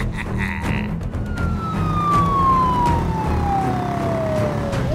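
A police car siren wails loudly and continuously, one long tone gliding downward over a low, steady rumble, with no voices.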